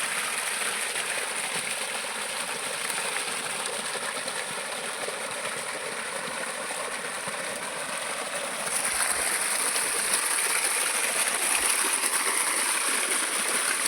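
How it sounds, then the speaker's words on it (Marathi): Water runs continuously in a maize field, a steady hissing flow heard alongside a constant engine-like drone, the level stepping up slightly partway through and then holding. "पाणी चालू आहे इकडं."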